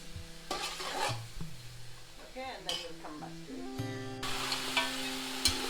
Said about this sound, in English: See, that's still frying nicely.